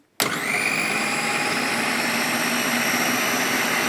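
A Karaca Mastermaid 10-in-1 grater appliance switches on and runs empty, its electric motor jumping straight to a loud, steady whine that holds for several seconds with no load.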